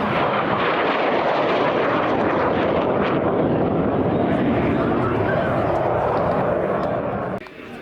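A MiG-17 jet fighter makes a pass at the Aero Gatineau Ottawa airshow, a loud broadband jet roar sustained for several seconds before dropping off abruptly at the end.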